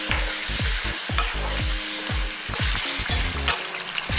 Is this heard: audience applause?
no